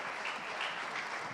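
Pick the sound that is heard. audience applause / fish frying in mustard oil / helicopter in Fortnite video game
audience applause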